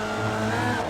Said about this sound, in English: Your car's going to be whining